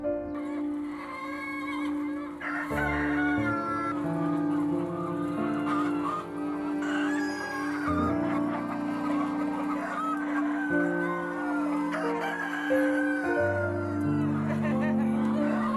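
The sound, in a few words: chickens clucking and rooster crowing on farm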